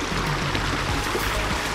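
Steady broadband rush of a waterfall in an autumn outdoor setting, continuous and fairly close, with no voices over it.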